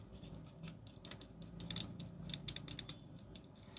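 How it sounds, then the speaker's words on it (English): A stick stirs two-part quick-drying Araldite epoxy during a fountain pen repair, producing faint, close, irregular scraping and clicking taps with no talking. "Let me mix it thoroughly with the stick."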